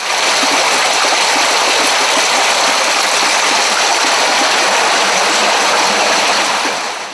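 Meltwater from a melting glacier in the Altai mountains rushes as a stream, a loud, steady broadband gush that holds its strength without pause and fades only slightly at the end.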